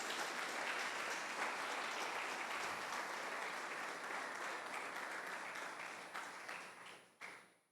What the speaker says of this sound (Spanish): Fuerte el aplauso a Jesús.